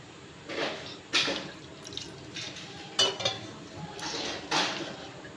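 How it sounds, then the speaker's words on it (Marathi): Pots and metal vessels clank and clatter in a household kitchen while someone fills them with water, with a few louder bangs spaced out over a background of running water. "माझ्या मुलीचे तिकडे भांडे भरणे चालू आहे सगळं खडम खुडम खडम खुडम वाजवत आहे"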